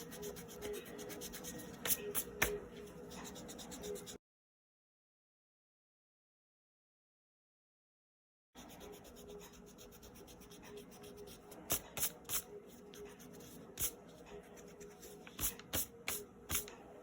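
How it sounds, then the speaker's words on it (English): An eraser rubs out pencil sketch lines on paper for a unicorn drawing, giving quiet scratchy scrubbing strokes in bursts, with a silent gap in the middle and no talk. "I'm gonna take an eraser and I'm gonna lightly erase all of my sketch marks"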